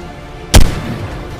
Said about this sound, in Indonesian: terus kalian tembak-tembakin aja kayak gini